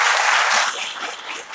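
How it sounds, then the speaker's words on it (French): An audience at a theatre event in France claps loudly together, a dense burst of applause that eases slightly after the first moment but keeps going. "Un maximum d'applaudissements quand même."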